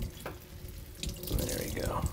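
Liquid from kale and onions streams out of a squeezed cotton bag, a steady splashing trickle with a brief louder gush near the end.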